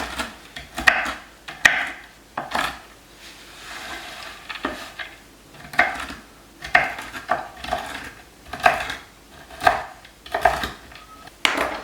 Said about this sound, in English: these are chopped pecans, but I'm going to cut them up a little bit smaller